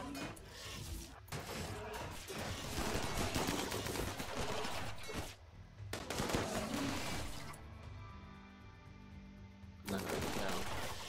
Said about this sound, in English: Shooting at those long range people when they're there